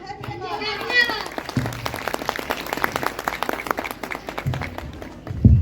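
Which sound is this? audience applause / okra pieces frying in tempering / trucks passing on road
audience applause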